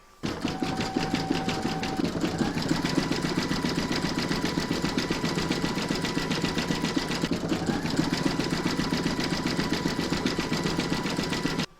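An embroidery machine stitching the trim on a snowman's hat, a fast steady mechanical rattle of the needle running continuously and close, with brief pitch shifts as the machine changes stitching direction, then stopping at the end.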